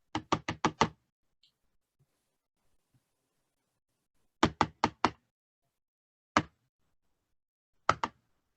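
Ducks tapping on an open door, sharp knocking bursts in quick clusters of four or five, then scattered single and double taps separated by silence, crisp and close.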